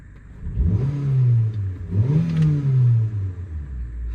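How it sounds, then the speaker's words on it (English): A small 4-cylinder engine in a 2010 Kia Picanto revs twice in quick bursts, rising in pitch and then settling back, loud and close. "Don't know if you can hear it, but I'll rev it so you can."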